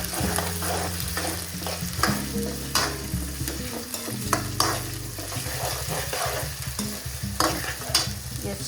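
Onions fry in a pan with salt and chili powder for an egg fry, a continuous close sizzle broken by repeated scraping and stirring strokes and occasional clacks of the spoon on the pan.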